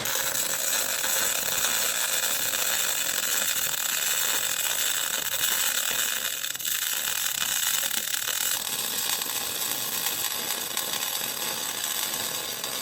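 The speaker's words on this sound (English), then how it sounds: "I guess I'll just have to grind it back out." A grinder runs continuously, grinding out a bad weld where the argon was left off, giving a steady, loud, high whine with little variation for the whole stretch.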